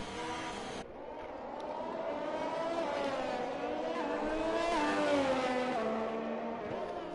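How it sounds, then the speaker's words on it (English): Formula 1 race cars leave the pits at Baku in the F1 2021 video game, an engine whine climbing steadily in pitch and growing louder as it accelerates. "Now I expect to see a lot of cars leaving straight away."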